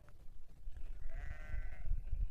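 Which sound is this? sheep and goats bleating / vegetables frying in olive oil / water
sheep and goats bleating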